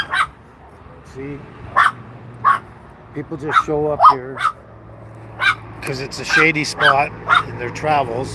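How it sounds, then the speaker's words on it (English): Dogs barking outdoors at a shady roadside stop, short yips and barks scattered through the clip beneath a person talking close by. "You can hear the dogs barking because there's dogs out here."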